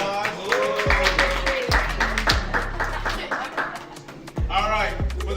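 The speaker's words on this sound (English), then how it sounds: "Give the CFO a round of applause" An audience at a business program event gives a round of applause for a team's CFO, scattered claps mixed with talking and low steady tones in the background.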